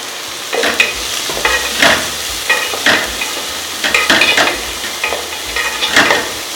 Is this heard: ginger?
yes